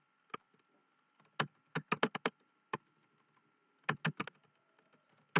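Keys clack on a computer keyboard in short bursts and single taps, crisp and close in a quiet room, with pauses between clusters of typing.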